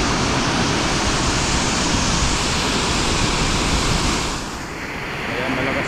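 Strong current of the Marikina River during heavy rain: a loud, steady rushing roar of water with wind buffeting, dipping briefly near the end before surging back.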